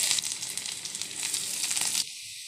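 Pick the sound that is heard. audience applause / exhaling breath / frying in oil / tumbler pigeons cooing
frying in oil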